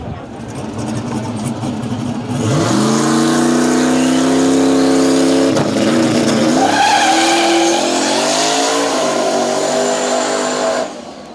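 An LS-powered drag race car with a 94mm turbo launching at a drag strip event, a loud close engine roar that climbs steadily in pitch through the gears for several seconds before cutting off, with tire squeal mixed in.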